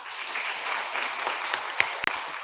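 A church congregation gives a brief, fairly faint round of applause during a Sunday morning service, with soft scattered claps and a couple of sharper hand hits near the end.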